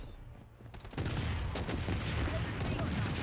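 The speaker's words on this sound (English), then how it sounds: "That's an airstrike" Airstrike in a free-to-play Call of Duty-style shooter: after a quieter second of faint rumble, a loud sustained volley of overlapping explosions and rapid gunfire crackle takes over, with a voice briefly audible underneath.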